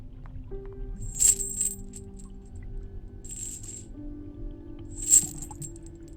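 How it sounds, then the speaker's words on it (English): Metallic clinks of chains aboard a ship in The Hand of Glory, three short bright jingling bursts spaced a second or two apart over a low steady hum. "I heard the clinking of chains coming from..."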